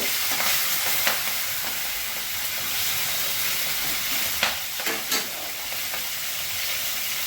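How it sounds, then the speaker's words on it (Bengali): Prawns sizzling in hot oil with cumin seeds and bay leaf in a home kitchen, a steady loud frying hiss with occasional sharper crackles and stirring clinks. "এবার আমি চিংড়ি মাছটা দিয়ে দিই।"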